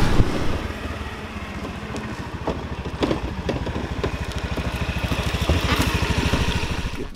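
A scooter engine drones steadily during a ride through Ubud, Bali, with a close, continuous rhythmic putter and occasional bumps and rattles, no voices.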